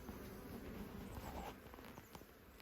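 A honey bee colony packed with bees buzzing inside a hive, a faint, continuous low hum with scattered crawling and tapping sounds, quiet and close, without speech.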